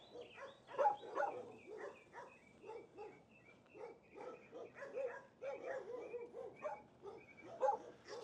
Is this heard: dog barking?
yes